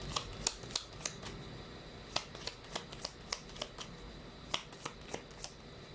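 Tea leaf fortune cards being shuffled and handled, giving a steady run of crisp, close flicks and snaps, about a dozen sharp card slaps spread across the stretch with no talking.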